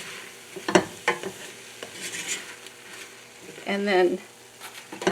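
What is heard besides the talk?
vegetables cooking and being stirred in a pan for chili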